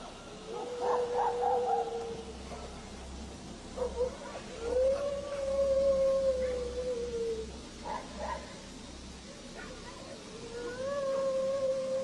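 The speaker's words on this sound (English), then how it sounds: "we got dogs barking at someone" Dogs caught on CCTV in Mexico howl in long, wavering tones, with several drawn-out howls rising and falling over a low background hum at moderate distance.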